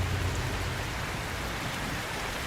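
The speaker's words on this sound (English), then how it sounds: "And now it's raining." Steady rain falls in the video game Cairn, a dense, even hiss of droplets filling the scene without pause, close and consistent with no talk over it.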